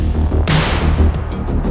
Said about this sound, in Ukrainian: Одна міна, вогонь.